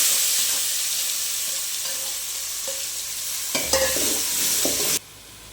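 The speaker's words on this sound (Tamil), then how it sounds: "இப்போ கடுகு பொரிஞ்சிருச்சு, ஆட் பண்ணிக்கலாம்." Ground paste and mustard seeds sizzle and splutter in hot oil for a mutton kulambu, a steady close frying hiss with a brief louder burst of crackling near the end before it cuts off.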